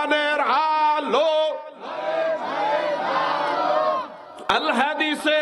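A large crowd at a Bangladeshi religious sermon roars a takbir in answer to the preacher, a loud massed chant of voices rising together, swelling and then falling away, with the preacher's amplified voice around it.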